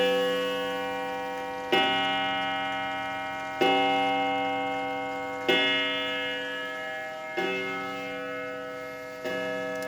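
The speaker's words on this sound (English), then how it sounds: "11 o'clock, 11 bongs." A clock chimes the hour at eleven o'clock with slow, evenly spaced bongs, each strike ringing out loud and close before decaying under the next, with no voices over it.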